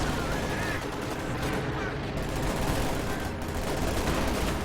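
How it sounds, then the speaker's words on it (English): ZiS anti-tank gun firing on a Panther tank in Company of Heroes 2, a dense continuous barrage of gunfire and battle noise with overlapping shots, loud and sustained, with a commentator talking over it. "Still one Zis gun here firing on the Panther."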